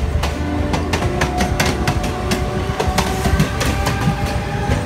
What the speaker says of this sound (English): And see, it's picking up speed. There it goes. Mumbai local.